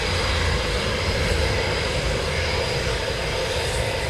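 A military jet taxis at RAF Coningsby during NATO exercise Steadfast Noon 2022, giving a steady, loud, broad engine roar that holds evenly throughout with no voices.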